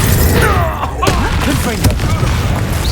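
Confringo fire spell blasts in the Hogwarts Legacy video game, loud booming thuds and crackling impacts packed densely over continuous game music and effects, with a voice shouting spell names over the action.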